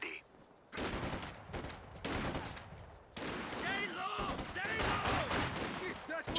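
Rapid machine gun bursts and heavy gunfire from a Company of Heroes 2 match, loud and dense, in repeated clustered volleys over a rumbling battlefield, with brief gaps between bursts.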